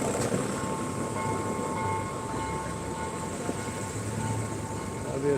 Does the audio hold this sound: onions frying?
no